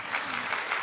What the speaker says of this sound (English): Another big round of applause for everyone.